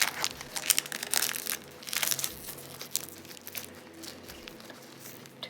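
A crystal clay packet being closed with a sticker produces close, bursty plastic crinkling and crumpling, loud in short clusters and then tapering off.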